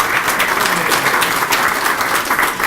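Dinner audience at a Conservative Friends of India gathering applauding, a dense continuous burst of clapping from many people with faint voices underneath.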